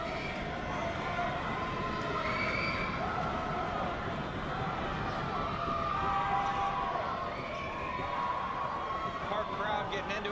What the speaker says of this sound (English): Park crowd getting into it, getting them to miss.